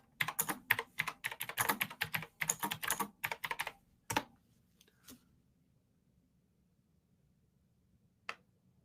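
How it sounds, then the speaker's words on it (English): Rapid keystrokes on a computer keyboard come in dense bursts for about four seconds, then a few isolated taps follow and the sound fades to near silence, close and moderately loud with no talking. "Oh, I'll type back."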